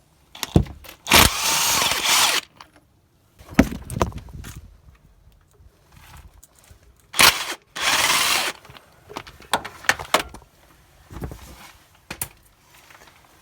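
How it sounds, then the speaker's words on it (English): Several loud, harsh bursts from a power tool undoing the engine mount bolts on the gearbox side of a 2.3 dCi Renault Master. They come in short, uneven spurts with quiet gaps between them, close to the listener. "I'm just going to remove these engine mount bolts here."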